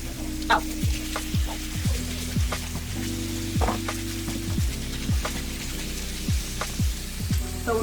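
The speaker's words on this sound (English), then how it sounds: "So we're gonna let it simmer, do its thing" Beef and broccoli simmer and sizzle steadily in a pan, with a constant frying hiss and repeated short scrapes and clinks of stirring spread through the stretch; no one speaks.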